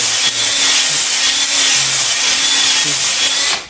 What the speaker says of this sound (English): So you wanna make sure you get the brush spinning before it goes in the bore.